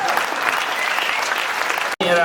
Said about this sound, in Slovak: Veľký potlesk, prosím.